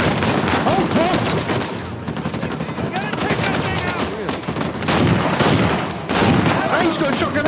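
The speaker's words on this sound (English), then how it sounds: "we're definitely going to get shot at here" Dense, loud gunfire fills a firefight in the action game Uncharted 4: A Thief's End, with rapid automatic bursts and overlapping shots throughout, and a player's voice talking under the shooting.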